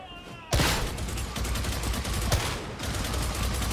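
Gunfire in the video game Warhammer 40,000: Darktide: a sudden, loud, sustained barrage of rapid automatic shots, close and continuous, with a few heavier cracks standing out in the stream.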